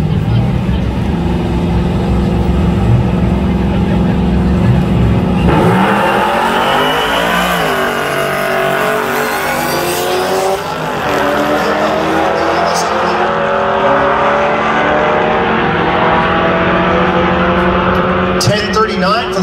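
Drag racing cars at Tulsa Raceway Park launching down the strip in a garage race, engines roaring loud and sustained with rising revs and gear changes, under an announcer's talk.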